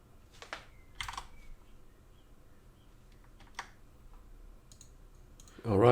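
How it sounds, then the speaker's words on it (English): Computer mouse clicks during technical drawing work, a few sharp isolated clicks spread over a quiet background, ending in a louder burst of noise. "Right click."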